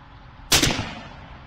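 A single .410 shotgun blast from a CVA Scout with Jebs XXFull choke and Verdict shells, loud and close, with a short decaying echo after the sharp report.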